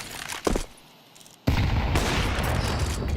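Rapid P250 pistol fire rings out in a Counter-Strike match, with a short burst of shots followed by a sustained run of gunfire that stays loud and close.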